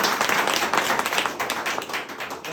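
An audience at a company meeting in Pedapally claps together, a dense burst of hand claps filling the whole short stretch at close range.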